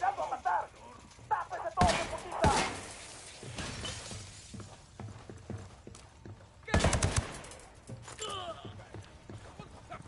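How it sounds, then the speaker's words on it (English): Gunfire in the Ghost Recon video game: several sharp, loud bursts of shots with glass-like shattering, scattered through the clip between quieter stretches of game sound. "Fire. Opening fire."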